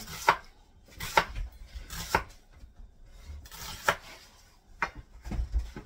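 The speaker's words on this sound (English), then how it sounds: "So we're going to slice up these onions." A knife slices through onions on a cutting board, producing sharp, crisp thuds at an uneven steady pace, about seven cuts close by with no voices.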